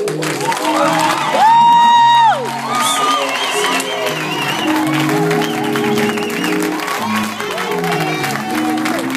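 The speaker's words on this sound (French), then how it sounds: "Merci de m'avoir acclamé" Church congregation cheering and acclaiming during a service, loud whoops and shouts over crowd noise, with sustained voices and cries rising above the sound of the crowd throughout.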